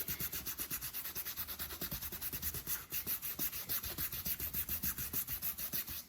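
A toothbrush scrubs a stain on clothing in fast, regular back-and-forth strokes, a close, quiet rhythmic brushing rasp that continues steadily without talk.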